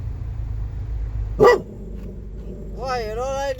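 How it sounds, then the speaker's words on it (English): A dog barks at a blue truck: a single sharp, close bark, then a drawn-out whining, whimpering yelp over a low rumbling background. "What are you barking at?"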